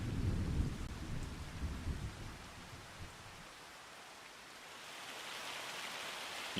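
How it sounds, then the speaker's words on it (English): Rain and rolling thunder from a storm in the Farming Simulator video game, with a low rumbling roar early on that eases into steady hissing rainfall, with no talk. "it's gonna fucking rain again"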